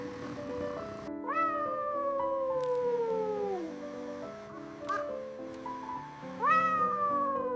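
A cat meows repeatedly in long, drawn-out, wavering cries, several calls in a row with brief pauses, close and fairly loud.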